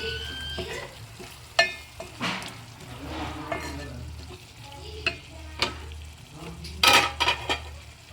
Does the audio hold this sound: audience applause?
no